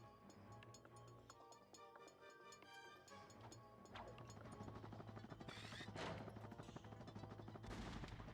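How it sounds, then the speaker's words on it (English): Rocket launchers fire in the Ratchet and Clank video game, each launch sounding like a shotgun blast. Sharp shots crack out repeatedly over a steady game soundtrack, getting louder and denser toward the end. "I love how their, like, rocket launchers are making shotgun noises"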